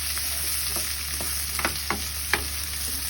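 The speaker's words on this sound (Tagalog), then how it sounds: "gisa na lang ng gisa." Chopped garlic sautés in a pan, giving an even close sizzle with a few soft clicks of a utensil stirring, and nobody speaks.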